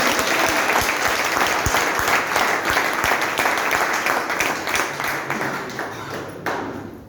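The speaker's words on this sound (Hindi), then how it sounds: "एक बार तालियां बजा लो।" Business seminar audience in a hall breaking into loud, sustained applause, a thick crowd of clapping that carries for several seconds before fading near the end.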